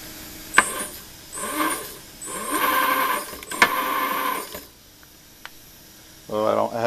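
Small AUStar AX5S RC car's steering servo and drive motor whirring in several short buzzing bursts, separated by brief quiet gaps, close by with no talking.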